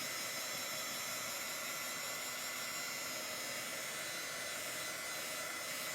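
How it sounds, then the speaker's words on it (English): A heat dryer blows a loud, steady, unbroken roaring hiss while drying chalk paste on a craft project; no voices. "So I'm drying it, but again, I really want to make sure it's dry, so I'm going to do it a little longer than I normally would."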